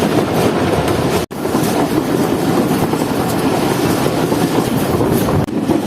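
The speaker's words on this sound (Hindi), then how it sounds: "हमारी ट्रेन एंटर हो चुकी है रहीम यार खान शहर में" Fareed Express passenger train running on rails into Rahim Yar Khan on the Lahore to Karachi route: a loud, steady rumble with rapid clatter from the wheels, a brief dropout near the start, then continuous running noise.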